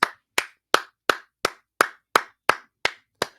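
Ten sharp, evenly spaced hand claps ring out one at a time, close and crisp with short gaps of silence between them.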